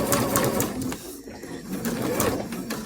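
A sewing machine runs in short bursts, putting a few stitches into quilt binding, its motor whirring and needle thumping close by with a brief pause midway.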